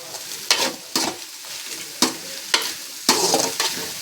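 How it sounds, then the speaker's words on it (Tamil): Cabbage fries in a pan while being stirred, giving a soft sizzle punctuated by several sharp scraping strokes at an uneven rhythm, close and without talk. "கோஸு போட்டுக்கிறேன். போட்டு நல்லா கிண்டி விடலாம்."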